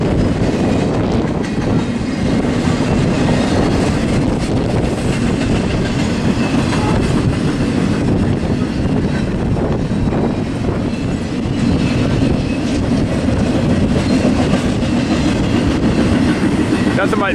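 A freight train hauling Martin and Prime International trailers rumbles past, a loud steady roar of wheels and cars with clickety-clack rhythm running the whole length, close and continuous.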